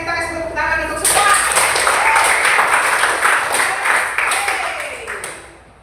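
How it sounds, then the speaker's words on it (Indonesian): A high school classroom breaks into brief applause for the students, a burst of many hands clapping close by that follows a spoken line and tails off after a few seconds, with a voice talking over it. "Kita kasih tepuk tangan untuk semua"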